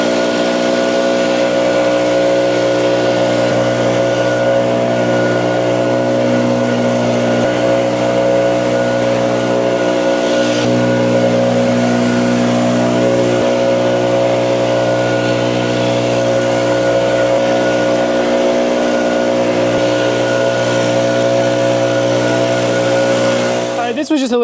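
A leaf blower runs continuously and loudly up close, blowing about three inches of snow off a concrete walkway, its engine holding a steady droning whine with slight shifts in pitch throughout.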